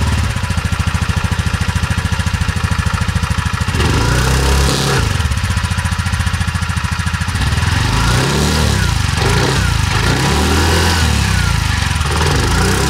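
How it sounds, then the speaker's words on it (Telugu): A TVS Jupiter 125 DT SXC scooter's 125cc engine runs at close range, a loud, steady putter at idle broken by several quick throttle blips that rise and fall in pitch. "ఈ స్కూటర్ ఎగ్జాస్ట్ నోట్ ఎలా ఉందో ఒకసారి చూద్దాం మనం"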